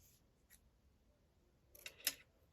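Scissors snip through ribbon for a junk-journal craft, with a couple of faint early clicks and then two sharp, close snips near the end in an otherwise quiet room.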